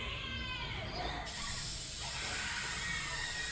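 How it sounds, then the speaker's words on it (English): A bug spray can hisses out a long, continuous spray, starting softer and then becoming a broad, steady hiss that lasts to the end in an animated horror scene. "She found the bug spray, yeah."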